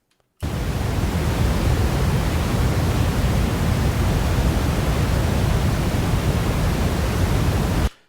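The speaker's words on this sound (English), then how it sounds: "so here's the brown sound" A brown noise test signal runs as a steady, loud broadband hiss with a heavy low rumble, starting abruptly and cutting off cleanly after about seven seconds, with no talking.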